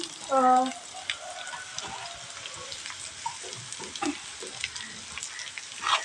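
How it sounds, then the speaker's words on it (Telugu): Potato pieces are frying in a pan alongside onions that have already browned, giving a soft, steady sizzle at low volume with scattered stirring clicks and a brief tonal voice-like sound near the start. "ఇప్పుడు బంగాళదుంప ముక్కలు కూడా వేసేస్తున్నానండి"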